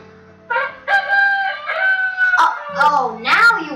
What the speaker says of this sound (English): Oh, come on, Rooster. I know I said for you not to make a lot of noise